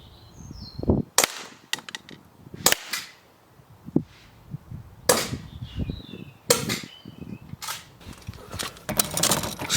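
Sharp, loud shots from a WE 1911 full-metal gas blowback airsoft pistol fired outdoors in the cold, a dozen or so irregular cracks with brief gaps and a quick double near the end, close to the mic.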